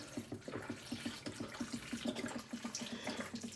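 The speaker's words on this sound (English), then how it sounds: "we're gonna pour the chicken broth over" Chicken broth poured over red potatoes in a pot, a steady liquid stream with a rapid rhythmic glugging pulse, close and moderately quiet, no voices.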